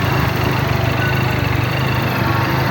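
A 400cc motorcycle engine running at a riders' club night, a loud steady close-up engine rumble throughout with no talk.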